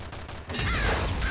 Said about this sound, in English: I wonder if the sledgehammer shot does the exact same thing